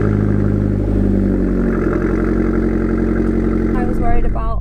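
A 2017 Abarth 595 Trofeo runs at a cold start with a loud, steady, throaty idle rich in low harmonics, and a brief rev blip with crackle near the end.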